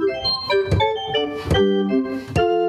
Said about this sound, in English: So this is the 8-foot and the 2-foot together.